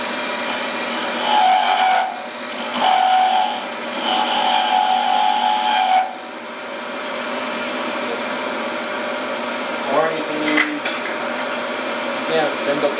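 A wood lathe turns a thin crochet hook blank while a spindle gouge cuts it, producing a whirring motor hum with intermittent rougher, chattering cutting bursts and a voice speaking over it.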